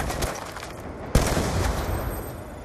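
Gunfire in an Xbox 360 video game, a dense burst of rapid shots with one sharp loud report partway through, followed by continued noisy game audio.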